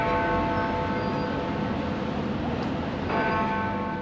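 Big Ben, the great bell in the clock tower of the Houses of Parliament in London, rings with a loud sustained resonant tone over steady city background noise.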